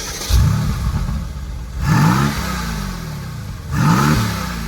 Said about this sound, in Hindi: आपके पास 2 किस्म के साउंड है एग्जॉस्ट में। एक कंफर्ट मोड पे है जो कि नॉर्मल साउंड आता है